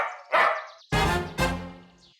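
A dog in a cartoon barks three times, loud and close, one short yap followed by two longer, ringing barks with a whiny edge.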